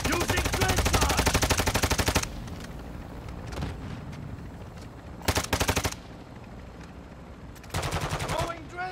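Rapid gunfire from a flintlock weapon in a video game, loud bursts of repeated shots in several volleys separated by quieter gaps.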